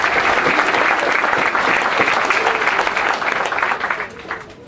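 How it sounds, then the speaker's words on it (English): Loud, sustained applause from a crowd at a military leadership course graduation ceremony, honoring family members, a thick wash of clapping that holds steady before tapering off near the end. "please give me a round of applause for all of our family members"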